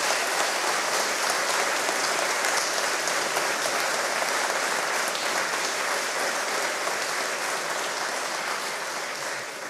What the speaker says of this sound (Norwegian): En stor applaus til Roger,